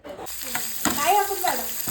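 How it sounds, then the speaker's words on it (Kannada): Urad dal, coriander seeds, Byadgi chillies, fenugreek and curry leaves dry-roast in a pan, giving a close crackling sizzle and scraping stir strokes, with a brief voice in the background. "ಉದ್ದಿನಬೇಳೆ, ಕೊತ್ತಂಬರಿ ಕಾಳು, ಬ್ಯಾಡಗಿ ಮೆಣಸು ಹಾಗೂ ಮೆಂತೆ, ಕರಿಬೇವು ಎಲ್ಲವನ್ನು ಹುರಿದುಕೊಳ್ಳಿ"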